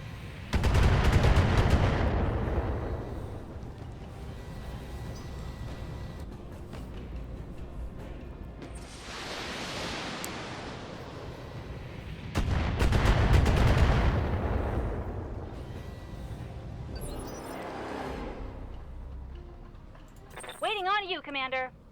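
Mech weapons fire in BattleTech, heavy booming volleys and crackling impacts arriving in several separate bursts with quieter stretches between, plus a short warbling electronic tone near the end; a voice talks in between.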